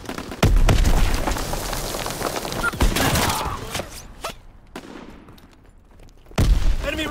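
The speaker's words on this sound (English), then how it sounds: "Throwing grenade!" Grenade blasts go off in the WWII shooter game: three loud, booming explosions, near and heavy, with rumbling debris and battle noise filling the gaps between them.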